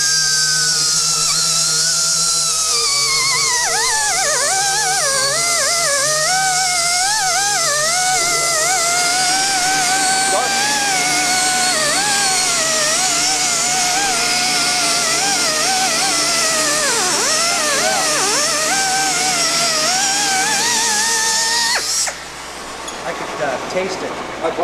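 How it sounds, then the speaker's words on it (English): Two power tools run together with no dust collection attached, a loud, steady mechanical whine with shifting pitch that fills the space and cuts off near the end. "now running both tools with no dust collection and see the significant change"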